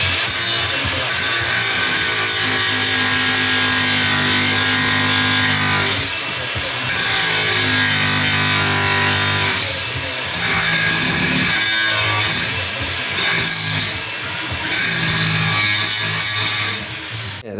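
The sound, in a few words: cutting out old car seat mounts, sawing or grinding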